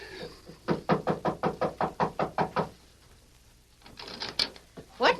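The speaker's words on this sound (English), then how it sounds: "Knock on the door, Hegan." Eleven firm, evenly spaced knocks rap on a door as a radio drama sound effect, loud and close, followed by a softer scuffle of further taps and movement.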